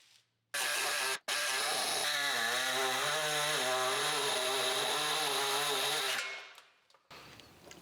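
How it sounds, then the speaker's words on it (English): A pneumatic air saw cuts through a rusted car body panel, a loud, steady buzzing whine after a brief start and stop, running for several seconds before winding down, followed by a lighter rattle. "I just started it with the grinder so I can get the air saw in there and get a nice clean cut"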